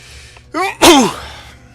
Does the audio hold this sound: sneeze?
yes